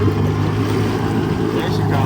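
Boat motor pushing against resistance as throttle is applied in floodwater after a hurricane, a steady loud low drone throughout with voices over it.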